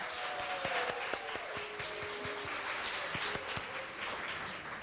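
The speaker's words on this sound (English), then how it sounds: "Let's give them another round of applause." Sustained audience applause fills a graduation pinning ceremony for speech-language pathology assistants, a dense, even wash of many hands clapping at steady loudness throughout, with a few sharper claps standing out.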